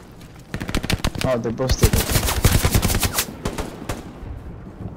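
Rapid bursts of automatic gunfire in the World War II shooter Hell Let Loose, loud and close, cracking in quick repeated volleys for several seconds while someone speaks briefly over the shooting.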